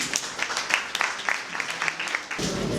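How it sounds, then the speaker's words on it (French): Applause from the audience at an end-of-year ceremony welcoming a speaker to the podium, a short spell of mid-level clapping with scattered individual claps, fading into room noise. "Sous vos applaudissements, s'il vous plaît."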